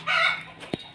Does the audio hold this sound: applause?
no